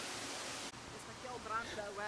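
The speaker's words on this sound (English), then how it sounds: "When I look at this waterfall" Water falls steadily from a waterfall seen outside a tunnel, a continuous broad rushing wash under a voice speaking over it.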